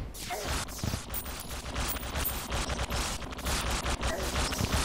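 Martian ray gunner enemies firing in Terraria, rapid repeated zapping shots in a dense burst of close, loud game combat sounds.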